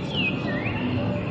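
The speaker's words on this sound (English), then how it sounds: "some fake sounds of some birds chirping away." Artificial bird chirping played through speakers in a relaxation area at Disneyland Shanghai, thin sliding whistled calls over a steady background hum, fairly faint, with no talk.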